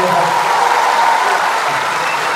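Dense, steady applause from a comedy show audience, loud and sustained throughout with no gaps or voices standing out.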